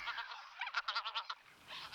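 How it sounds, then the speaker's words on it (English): Wild Greenland white-fronted geese give a quick series of six or seven honking calls, rhythmic and fairly clear, over a quiet peat bog backdrop with no talking. "we no longer enjoy the sight and sounds of the wild Greenland"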